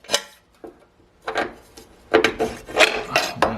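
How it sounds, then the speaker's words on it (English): Original bolts are started and threaded into a steering box mount on a Mercedes W109/W108, giving scraping, rasping metal rubs in short irregular bursts, close and fairly loud. "I'm going to get the original bolts here and see if this bolts into position"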